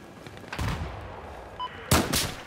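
Battlefield 4 multiplayer gunfire: a single booming shot, then a short pause before a louder close pair of blasts in quick succession.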